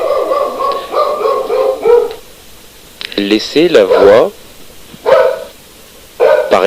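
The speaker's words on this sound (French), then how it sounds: "du chien qui aboie parce qu'on a sonné à la porte" A dog barks in several short bursts after a doorbell rings in a home recording studio, the barks sounding close and loud and interleaved with someone speaking in French.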